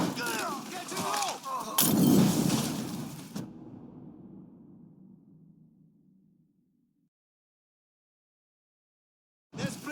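Gunfire and explosions in the video game Mafia III, a loud burst of shots and a booming blast in the first few seconds that fades into a long rumbling decay, then silence, with shouting voices mixed in.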